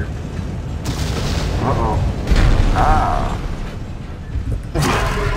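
In the video game Dead Space, an explosion goes off as a loud, rumbling blast amid other game noise, and a player speaks briefly over it.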